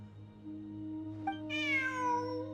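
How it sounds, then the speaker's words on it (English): A cat meows inside the video game Genshin Impact, one drawn-out, rising and falling meow over a steady game music bed. "Look, a cat."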